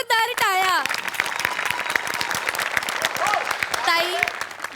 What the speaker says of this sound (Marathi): ताई जोरदार टाळ्या